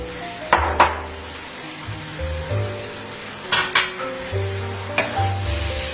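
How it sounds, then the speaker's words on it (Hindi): Prawns fry in a spiced gravy over a medium flame, giving a steady sizzle. A few sharp clinks and scrapes of stirring in the pan break through close by. "अब हम मीडियम फ्लेम के ऊपर इन प्रॉन्स को थोड़ी देर इस ग्रेवी के साथ पका लेंगे, इन तमाम मसालों के साथ पका लेंगे।"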